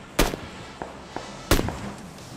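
Two loud, sharp gunshots ring out about a second apart in the video game PUBG Lite, with a few fainter distant pops between them.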